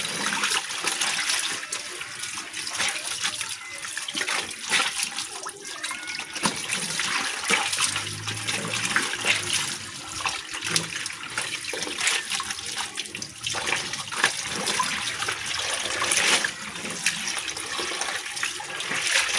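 Water runs continuously into a sink during a home laundry rinse, with a steady splashing hiss and occasional clatter, close and fairly loud, with no talking.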